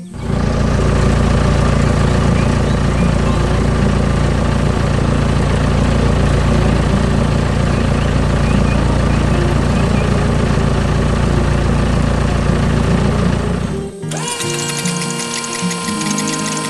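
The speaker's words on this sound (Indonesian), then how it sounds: "Mesin konstruksi hijau sedang bekerja keras di tanah berwarna coklat." A green construction machine works on brown soil on a farm, its engine a loud, constant low rumble that holds steady for a long stretch before abruptly shifting to a thinner, higher mechanical drone near the end.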